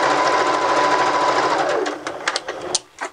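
A home sewing machine set to a long basting stitch runs steadily around a fabric casing, a close, continuous mechanical whir that slows and stops near the end, followed by a few small clicks and handling sounds.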